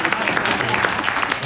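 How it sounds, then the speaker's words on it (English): Audience applause at a community gathering in a temple hall, steady clapping from many hands filling the room evenly for the whole stretch, with no voices over it. "then you can applaud"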